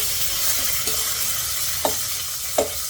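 Chopped onion and tomato cooking in a pan, a soft continuous sizzle with a few sharp scraping stirs of a spatula near the end.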